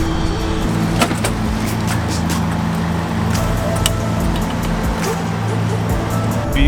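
A car pulling in and parking, its engine idling low and steady with a few faint clicks and mechanical knocks from the vehicle at close range, no talking.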